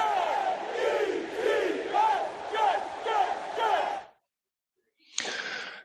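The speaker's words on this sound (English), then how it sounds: "I'm going to give you the Jets chant." A crowd-style group chant of rhythmic shouted syllables rings out, followed by a short pause and a brief burst of cheering.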